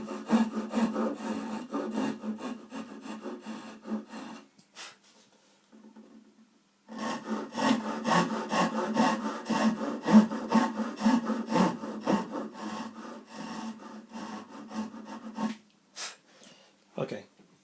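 Hand saw cutting wood for a classical guitar neck, steady rhythmic back-and-forth strokes close up, pausing briefly partway and then resuming, with a few faint rubbing scrapes at the end.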